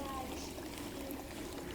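Red tail catfish tipped out with their water into a basin, a soft, steady pouring splash that runs the whole moment at low volume.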